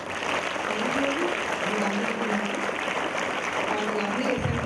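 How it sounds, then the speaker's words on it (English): A round of applause for class 11 at a school morning assembly during an inspection, continuous clapping from many children with faint voices murmuring underneath. "Can we give a big round of applause to class 11?"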